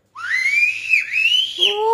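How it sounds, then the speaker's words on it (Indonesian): A clear, loud, sustained whistle rises and wavers in pitch as someone whistles after eating chili, then breaks into a short two-note whistle at the end, with no talking. "Makan cabai kau bisa siul-siul ya"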